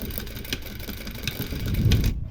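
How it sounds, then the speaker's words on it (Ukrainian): A sewing machine stitching tape along a T-shirt seam runs in a close, fast, rhythmic mechanical whirr, steady throughout and stopping abruptly at the end. "І настрочуємо чітко-чітко попід шов, попід строчку."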